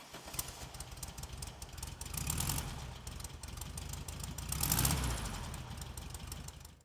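A 1972 Volkswagen Super Beetle with an 1800cc engine runs in a steady, low, rumbling idle with a rattly, air-cooled texture, swelling briefly a couple of times as if revved before settling back, heard alone and at moderate distance.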